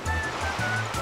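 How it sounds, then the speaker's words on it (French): Ocean waves rush and wash continuously while surfing in the video game Super Mario Galaxy, a steady roaring surf with rhythmic low swells and faint game tones layered on top. "En plus, les vagues, là, elles n'aident pas des masses."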